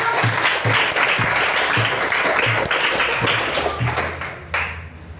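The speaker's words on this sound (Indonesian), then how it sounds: "tepuk tangan kita semua" A school class applauds a student's answer in a classroom, a burst of many hands clapping steadily and fairly close, with a few rhythmic taps beneath, tapering off toward the end.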